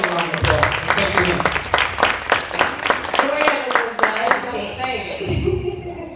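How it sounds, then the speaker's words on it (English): A room of guests applauding at a nonprofit board installation event, with rapid clapping at the start under loud talk and cheering voices, the applause fading as speech takes over. "So give yourself a round of applause."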